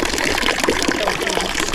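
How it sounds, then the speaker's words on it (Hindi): Water runs steadily from a public drinking fountain in Switzerland, a continuous splashing rush heard up close while people talk over it. "चलते रहोगे तो ऐसे ही फुहारा चलते रहते हैं"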